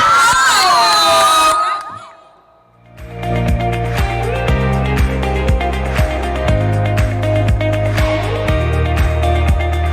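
An audience at a student media society launch cheers and shouts loudly for a couple of seconds, then goes quiet, and steady rhythmic music with a strong bass line takes over.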